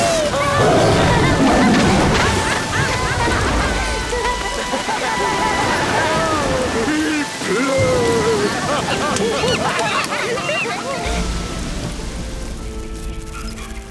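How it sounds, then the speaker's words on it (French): Heavy rain pouring down in a jungle, a dense, loud hiss with a deep thunder-like rumble, under animated cartoon voices and calls throughout. "comment savais-tu qu'il allait pleuvoir?"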